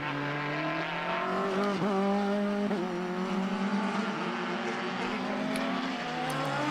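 Formula racing cars at Mondello Park, a World Series car oversteering, their engines screaming loud and close with high revs that rise and fall through gearchanges under a continuous roar.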